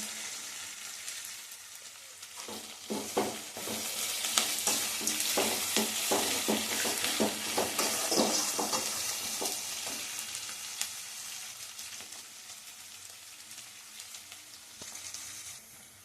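Chopped onions sizzle steadily in a hot pan for lemon rice, with a spoon or spatula scraping and stirring in rapid bursts through the middle, the frying hiss continuing close and loud throughout with no voices.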